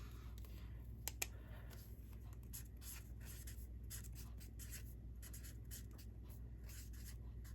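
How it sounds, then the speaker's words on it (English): A pen writes on paper, a faint, continuous scratching with a few brief taps, heard over a steady low background hum. "I'll write that down for you."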